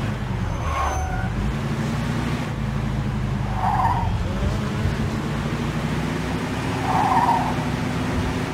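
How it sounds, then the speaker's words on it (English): A speeding car in the video game Mafia 2 drives with a steady engine drone while its tires squeal in repeated brief skids, loud and close, with no one talking over it. "Pursuit of a speeding vehicle."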